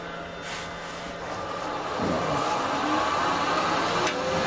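A 9mm carbide cutter, standard or negative rake, held flat against a small wooden bowl spinning on a lathe, giving a steady rushing, scraping hiss that grows louder and fuller about halfway through and holds there, with no talking.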